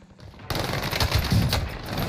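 Gunfire in a video game, enemies shooting at the player: a sudden, loud, dense burst of rapid automatic shots after a brief quiet start, continuing to the end.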